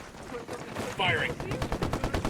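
Rapid bursts of gunfire from a Ghost Recon Wildlands firefight, fairly quiet and somewhat distant, with rhythmic shots through the second half and a brief bright electronic chirp mixed in.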